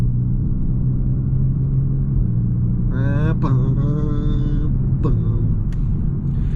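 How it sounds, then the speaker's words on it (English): A Genesis G70 3.3T AWD under light throttle hums with a steady low engine drone, and a brief rising tonal sweep midway marks the upshift before the note settles back into the even rumble. "I love this light throttle upshift noise."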